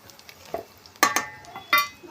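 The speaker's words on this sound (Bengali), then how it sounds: "একটু জিরে ফোড়ন দিলাম" Cumin seeds dropped into hot oil in a wok give a few short, crackling bursts of sizzle, close and fairly loud, with quieter spitting between them.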